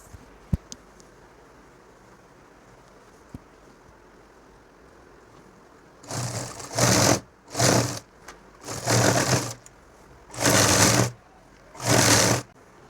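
Sewing machine stitching the side seam of a cotton nightie at home, running in six short bursts of steady whirring with brief pauses between them after a quiet opening.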